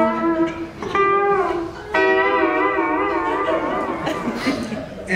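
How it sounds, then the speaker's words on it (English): An electric steel guitar played with a slide bar by a beginner, giving sustained, wavering, gliding notes that swoop up and down in pitch, several separate phrases heard close and alone. "when I started playing the steel guitar in 1998, I was getting sounds like this."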